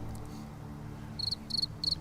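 Cricket chirps played as a soundboard sound effect: three short, bright trilling pulses evenly spaced near the end, over a quiet low hum.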